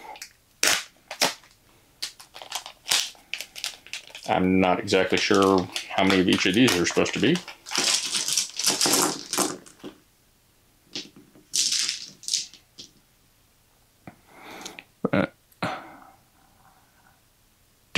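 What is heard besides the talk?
Witcher Old World upgraded dice being handled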